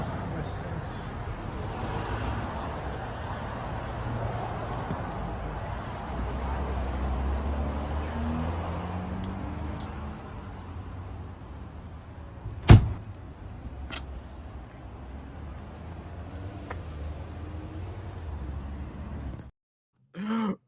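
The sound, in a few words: car door being slammed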